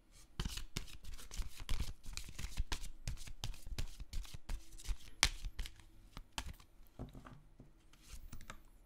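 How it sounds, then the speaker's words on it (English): Prism Oracle cards being shuffled by hand in a quiet room, a continuous run of crisp riffling and flicking bursts with short pauses, close and fairly soft. "I'm going to start off by pulling you some Prism Oracle cards."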